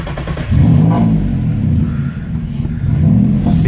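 A car engine struggling for a steady idle gives a loud, close, uneven low rumble that swells into brief revs and then drops back, with the engine note rising and falling over several seconds.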